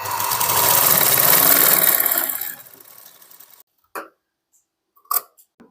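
An electric sewing machine stitches half-inch tucks on a katori blouse, running in a loud, steady burst for about two seconds before winding down, followed by a few sharp, isolated clicks.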